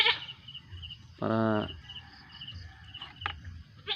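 A goat gives a single loud, wavering bleat close by, amid faint chirping insects and quiet background sounds, with a brief voice near the end.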